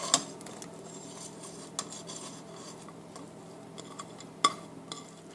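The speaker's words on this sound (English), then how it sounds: "Stir that in a little bit." A utensil scrapes and clinks against a pot while corned beef is stirred into a melted, creamy cheese mixture for a keto Reuben casserole, with soft scraping throughout and a few sharper metallic knocks.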